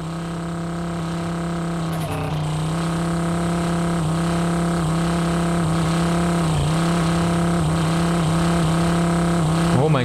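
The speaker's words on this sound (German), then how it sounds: "Das Geräusch ist nur dezent nervig vom Motor." A car engine in the driving game Drive Beyond Horizons hums at a steady, droning pitch for the whole stretch. It is loud and continuous, with slight wavers in tone and no talk over it.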